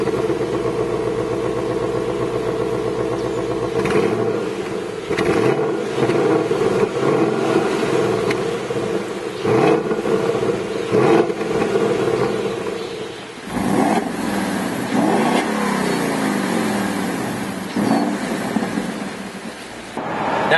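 A 2015 Ford Mustang GT with a 435-horsepower V8 is started up and revved: a steady rumbling idle, then repeated sharp throttle blips that rise and fall, close and loud, with no talking.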